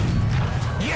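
A tank shell strikes its target in War Thunder, a sharp crash with a crunching metallic impact and a brief rising whoosh, set against a dense rumbling battle bed.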